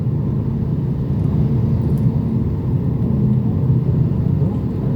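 Heavy, congested road traffic, with motorbikes in the mix, fills the scene with a continuous dense low rumble of engines at steady loudness, with no voices.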